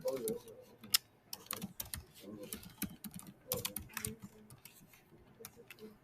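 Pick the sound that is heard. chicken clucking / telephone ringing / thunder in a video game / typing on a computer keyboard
typing on a computer keyboard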